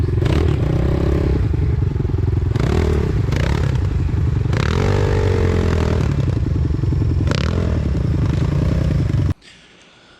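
Trailmaster TM31 dirt bike churning its tires on a wet hill, a loud sustained engine drone with rising revs and clattering, scraping bursts, cutting off abruptly near the end.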